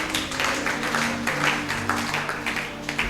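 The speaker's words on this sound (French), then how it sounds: "on acclame le Seigneur." A church congregation at a spiritual retreat applauds the Lord with dense, sustained clapping that fills the room, with a few voices mixed in.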